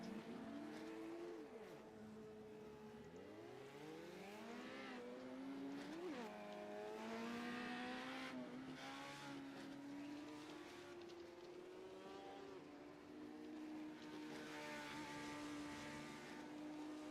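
Race cars lapping a sim racing game track in a warm-up session, several engines whining and rising and falling in pitch as they shift and pass, steady and continuous with no talk.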